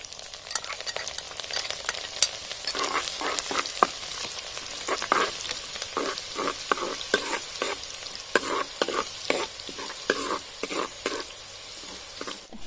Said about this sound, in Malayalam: വെളുത്തുള്ളി ഇടുവാണ്